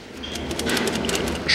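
A dry, rusty speedometer cable from a 2011 Daewoo Matiz 0.8 manual, spun by hand, gives a continuous noisy whirring rattle with repeated scraping ticks, close up and steady.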